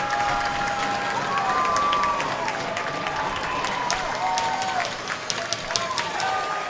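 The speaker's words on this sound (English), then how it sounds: "And this crowd loving it, getting on their feet." An Arkansas hockey crowd cheers and claps after a goal against Alabama, a sustained roar of the arena with whistles on top while an announcer talks over it.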